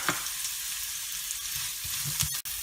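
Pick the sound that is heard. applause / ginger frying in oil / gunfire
ginger frying in oil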